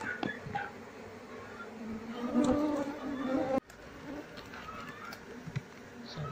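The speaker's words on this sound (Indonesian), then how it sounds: "koloni lebahnya ini berada di pohon nangka lapu." Bees from a wild colony nesting inside a hollow jackfruit tree hum and buzz in a soft, steady drone, with faint background noise and a brief dip partway through.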